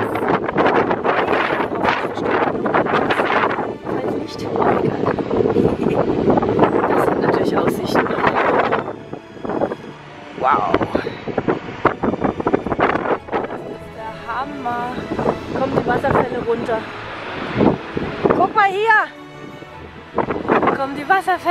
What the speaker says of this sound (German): Das ist windig.